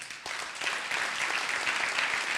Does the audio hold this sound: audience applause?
yes